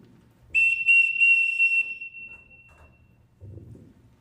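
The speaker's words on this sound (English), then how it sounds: "Everyone in this house answers to a whistle." A shrill whistle blown indoors as a signal to call children, one long piercing blast with a few short stutters, followed by quiet footsteps.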